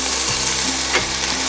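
Garlic fries in a paella pan near the end of cooking, a steady close sizzle with soft stirring scrapes and no voices.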